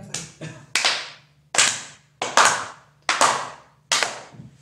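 A small group claps in about six separate sharp bursts, each loud and close, then quickly fading, with no talking between them.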